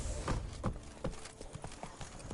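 Roach the horse galloping in The Witcher 3, a quick uneven run of hoofbeats thudding close and clear, with no voices over them.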